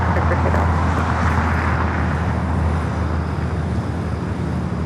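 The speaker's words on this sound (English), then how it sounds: "that is the Lufthansa flight 457 heading back to Frankfurt" Lufthansa flight 457 airliner taking off at LAX, a steady, loud broadband jet roar with a constant low rumble, sustained throughout and heard from nearby.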